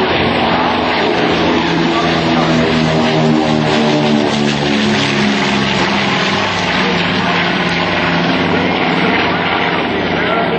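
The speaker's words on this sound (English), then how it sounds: "Next, low and to the right, the aircraft made famous by Jimmy Doolittle in the beautiful" B-25 bomber flying low past at an air show of vintage warbirds, a loud sustained propeller-engine roar holding steady throughout, with an announcer talking over it.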